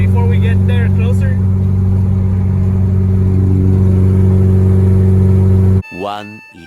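A 9th-generation Honda Civic Si engine drones loud and steady from inside the cabin, rising slightly as the driver drops a gear. A voice briefly speaks at the end.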